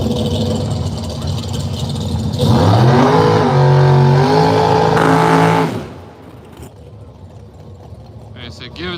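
A Third Gen Camaro drag car revs hard, its engine note climbing and holding in a loud, harmonic-rich roar before cutting off abruptly, with people talking over it at a drag strip.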